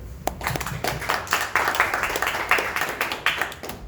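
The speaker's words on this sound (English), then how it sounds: "Please give him a warm round of applause for sharing this evening with us." An audience at an Avalanche meetup gives a speaker a round of applause, a dense, steady clapping of many hands close by that holds for several seconds.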